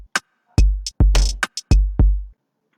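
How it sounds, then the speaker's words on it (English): Soloed Afrobeat drum pattern programmed in FL Studio: punchy booming kicks, snappy snare hits and short bright hi-hat and shaker ticks in a syncopated groove, loud and dry. "I'm just going to solo only the drums, so it sounds like this."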